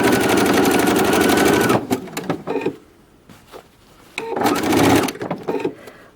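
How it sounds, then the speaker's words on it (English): Quilt sashing stitched on a sewing machine, which runs in two fast, steady, loud bursts of needle chatter close up, with a pause of quieter handling and small clicks in between. "depending on your machine, you may find that you have to sew this a bit more slowly"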